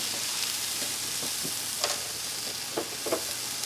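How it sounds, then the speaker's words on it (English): Onions sizzle on a Blackstone griddle with a continuous, close hiss, broken by a few soft scraping knocks of a utensil. "You can hear just sizzling away on the Blackstone."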